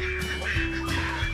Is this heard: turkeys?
yes